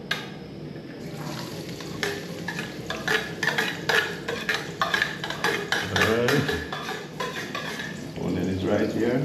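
A spoon scrapes and stirs onions in a pot as they saute, with repeated clinks and a steady sizzling wash up close, while people talk intermittently over it.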